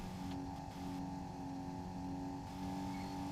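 Engine of a Porsche 356 in the racing game Need for Speed Porsche Unleashed, a steady droning hum held at near-constant revs with a brief dip as the throttle lifts, faint and alone.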